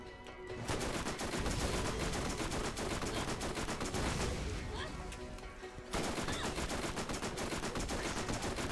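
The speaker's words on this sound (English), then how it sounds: "Just keep firing into him." Sustained rapid gunfire from the video game Borderlands, loud and nearly continuous bursts with a brief dip around the middle before resuming at full intensity.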